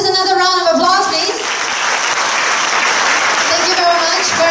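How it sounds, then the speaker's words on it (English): An audience at a business presentation and success-sharing event in Singapore claps loudly and steadily for the presenters, a dense, continuous applause that fills the room, with a voice briefly heard over it at the start. "can we give our presenters another round of applause, please?"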